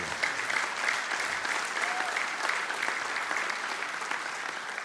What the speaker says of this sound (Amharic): ካጨበጨባችሁ በደንብ አጨብጭቡ።